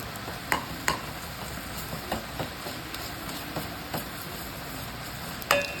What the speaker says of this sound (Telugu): ఈ వెల్లుల్లి పేస్ట్ని దాంట్లో వేసి ఫ్రై చేసుకోవాలి